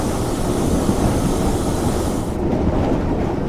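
Steam locomotive coasting downhill on the North Yorkshire Moors Railway, heard from the footplate as a steady, loud rumble of wheels and rail with no exhaust beats, continuous for the whole stretch.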